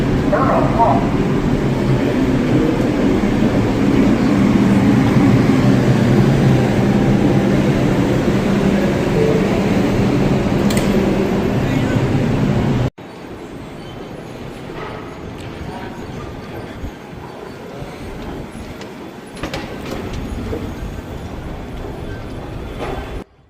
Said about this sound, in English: This is a Brooklyn-bound 4 train.